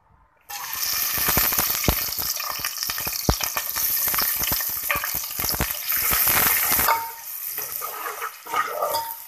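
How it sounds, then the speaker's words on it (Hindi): Large sliced onion sizzling in hot oil while keema is being made, a loud steady crackling fry with sharp spatters and popping bursts, easing slightly toward the end. "ऑयल गर्म करने के बाद हमने इसके अंदर एक लार्ज साइज़ की प्याज को स्लाइस में कट कर लिया था, वो डाल देंगे।"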